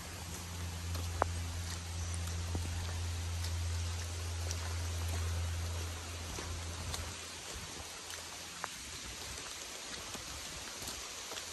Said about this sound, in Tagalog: Sobrang lakas na ng ulan tuloy.